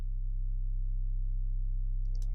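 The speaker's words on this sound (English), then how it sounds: "here I have a sine wave. I've tuned it quite low" A low-tuned sine wave bass for a film trailer hums as a pure, steady, sustained tone. A brief bright chirp cuts in just before the end.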